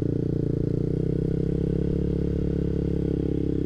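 A manual-clutch motorcycle engine runs steadily at low, even revs, with a continuous throbbing drone that stays loud and close throughout, and no voices over it.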